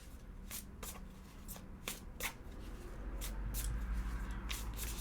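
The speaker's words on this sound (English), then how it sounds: "so shuffle the cards that way" Large tarot deck being shuffled by hand, a run of crisp riffling card bursts at an uneven rhythm, close and fairly loud, with no talking.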